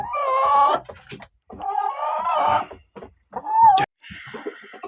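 A Kariz-breed rooster crows and clucks close by in several short bursts separated by silence, the last call rising to a sharp peak.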